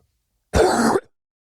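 A single short, harsh cough, close and clear, lasting about half a second against silence.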